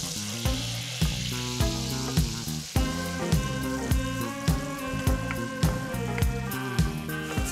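Mushrooms fry in garlic butter in a pan with a steady, close sizzle, under rhythmic music with a regular beat.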